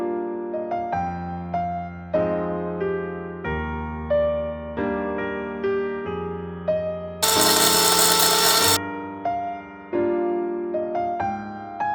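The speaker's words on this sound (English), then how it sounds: "Once the slices dry thoroughly, you can grind them in a dry grinder." A dry grinder whirs in one loud, steady burst of about a second and a half as it grinds dried homegrown turmeric slices, rising abruptly over continuous background music and cutting off just as sharply.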